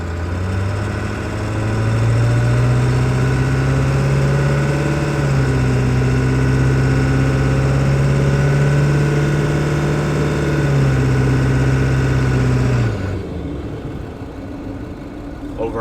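The diesel engine of a Ford 7.3 Powerstroke truck drones steadily while driving, a low pitched hum that rises slightly and holds, then drops abruptly near the end.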